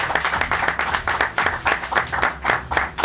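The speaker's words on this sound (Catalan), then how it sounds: "Fort aplaudiment aquí" Crowd applause at a studio show celebrating a football win over Espanyol, dense continuous clapping with rhythmic swells, close and loud, no speech over it.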